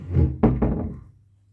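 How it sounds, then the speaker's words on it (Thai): A cat bumping against a door, two or three dull close thuds in quick succession, followed by a short fading rattle, with no voices. "เคาะประตูอยู่ปั้งปั้งไง"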